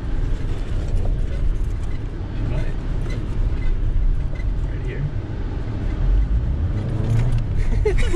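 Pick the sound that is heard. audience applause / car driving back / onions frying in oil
car driving back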